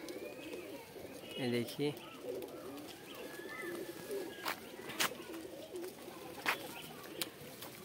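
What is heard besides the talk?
pigeons cooing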